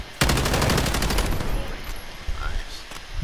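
Rapid automatic gunfire from a Modern Warfare 2v2 match, a fast burst of shots up close at the start, then quieter scattered shots.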